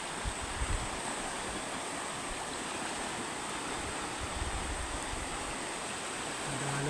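A flooded river rushes in a broad, continuous hiss of fast-moving water, steady and unbroken throughout, with no voices.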